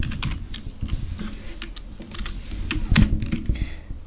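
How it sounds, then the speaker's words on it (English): Rapid typing on a computer keyboard, a steady patter of close, crisp key clicks with a few heavier strokes, heard alone without speech. "I can type whatever I want here"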